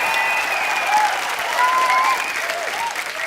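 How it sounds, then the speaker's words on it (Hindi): Studio audience clapping on a comedy talk show, a dense continuous wash of applause throughout, with a faint musical tone running underneath. "जोरदार तालियां।"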